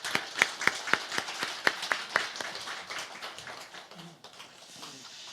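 A church congregation claps together at a New Year's worship service, a run of sharp, distinct claps that slows and thins, then trails off into quiet room noise.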